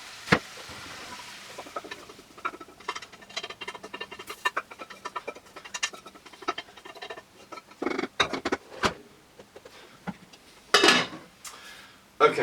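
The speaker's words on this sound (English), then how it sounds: "I'm going to transfer the vegetables into my slow cooker, which I've had preheating" Chopped vegetables tipped and scraped from a pan into a warm, preheated slow cooker, with soft patters, clinks of utensils and a few louder scraping bursts near the end, close and moderately quiet.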